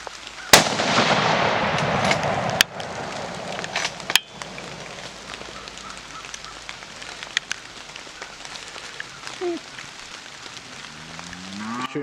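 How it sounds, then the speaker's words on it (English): A single sharp rifle shot from a hunting rifle during a youth hunt cracks loudly near the start, followed by a few fainter sharp knocks over an outdoor field background, with no talk. "Let us know when you're ready to pull the trigger."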